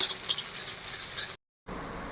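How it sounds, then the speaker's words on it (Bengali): Eggs, about five, beaten with salt, scramble in a little oil in a pan, giving a faint, soft continuous sizzle with a brief gap before frying resumes. "ডিমটাকে অল্প তেলে ঝুড়ো ভাজা করে নিলাম।"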